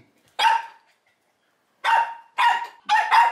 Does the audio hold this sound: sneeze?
no